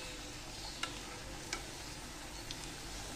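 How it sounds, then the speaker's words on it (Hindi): Food sizzles steadily in a pan as it fries golden on both sides, a soft, even crackle with a few faint clicks, close and quiet. "अब दोनों साइडों से गोल्डन होने तक फ्राई करेंगे।"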